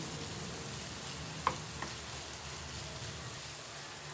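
Cooking oil sizzles and fries in a pan with a steady crackling hiss throughout, broken by a couple of faint clinks from a utensil.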